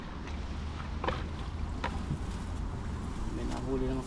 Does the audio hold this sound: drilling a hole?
no